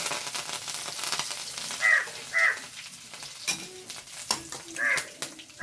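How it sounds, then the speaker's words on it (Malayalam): Dried red chillies and curry leaves crackle and spit as they hit hot oil, with close stirring scrapes throughout. A crow caws a few times in the background. "ഇനി ഇതിലേക്ക് ഞാൻ വറ്റൽമുളകാണ് ഇട്ട് കൊടുക്കുന്ന കരിവേപ്പില"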